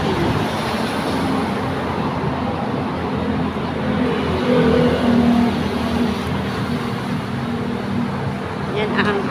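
An LRT train passes by in the city, a broad, steady rumble blended with road traffic that swells slightly toward the middle, with faint voices in the background.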